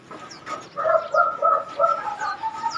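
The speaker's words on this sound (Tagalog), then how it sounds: "ito yung ibon mga kalatropa" Brown male racing pigeon coos softly up close, a series of five or six short, rolling throaty coos in a steady rhythm against quiet background noise.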